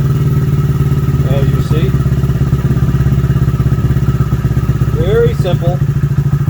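Honda Grom MSX125 single-cylinder engine idling during an idle speed adjustment, a loud, steady, throbbing putter up close, while someone speaks briefly over it.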